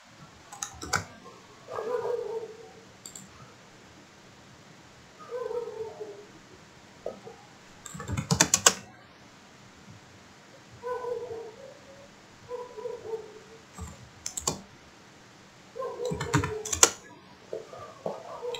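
Keys on a computer keyboard are typed in quick clicking bursts while drafting in AutoCAD, with several short clusters of taps separated by quiet pauses, close and moderately loud.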